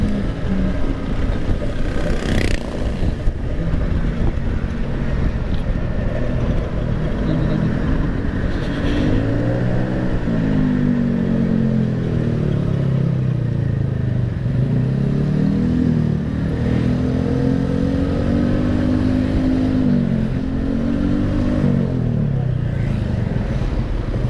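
A motorcycle engine revs and accelerates steadily for a long stretch, its pitch rising and falling in waves as the throttle is worked, loud and close, with wind and road noise and no clear talk.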